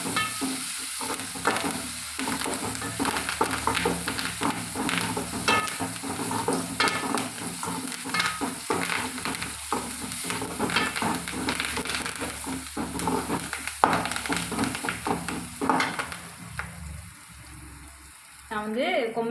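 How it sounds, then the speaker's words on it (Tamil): Onions and curry leaves fry in a pan with a steady sizzle, while a spoon scrapes and stirs through them in irregular clatters, close up and continuous for the whole stretch. "வெங்காயம் வதங்கிட்டு கருவேப்பிலை சேர்த்துக்கலாம்."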